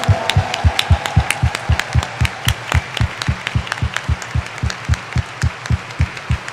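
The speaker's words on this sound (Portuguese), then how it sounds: "com uma grande salva de palmas bem calorosa" A congregation at a Sunday Mass claps in strong, steady unison, each beat sharp and close, keeping up a regular rhythm for the whole stretch with no voices over it.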